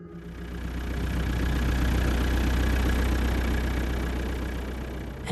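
A car engine idles steadily in the dark after rolling to a complete stop, a continuous low rumble that swells slightly and holds, close and fairly loud with no voices.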